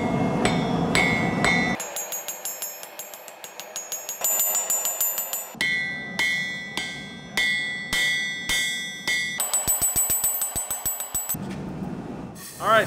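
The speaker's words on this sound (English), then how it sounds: "so we got the shift knob hammered out" Forged Damascus steel shift knob being hammered, sharp ringing metallic strikes in quick rhythmic bursts with pauses between runs, loud and close, some blows clinking brightly off the anvil.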